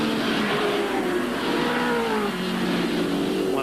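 Allan Grice's touring car runs through Dunlop Loop at Amaroo Park during the 1982 AMSCAR series. A loud, sustained engine drone slowly rises and falls in pitch as the car takes the corner.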